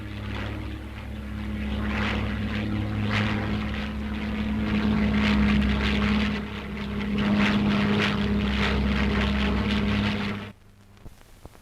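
A Supermarine Spitfire Mark VII propeller fighter with pointed wingtips flying overhead, a steady droning engine roar that swells and fades slightly for about ten seconds before cutting off abruptly.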